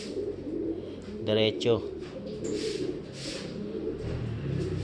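A rescued pigeon-like bird gives a short cooing call at close range, a couple of soft throaty notes in the middle, while someone speaks briefly over steady background noise.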